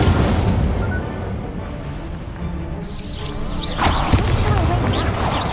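Incendio fire spell cast in Hogwarts Legacy, a loud fiery burst and blast over ongoing combat noise, with crackling bursts following after a quieter stretch.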